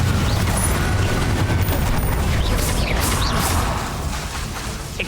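Confringo fire spell cast in the video game Hogwarts Legacy, with a dense, continuous burst of blasting, crackling impacts and whooshes that stays loud throughout and eases slightly near the end.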